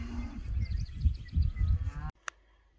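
Cattle bunched together in a corner pen during an old-style cattle drive moo repeatedly in low, overlapping calls for about two seconds, then fall quiet apart from one faint, brief higher call.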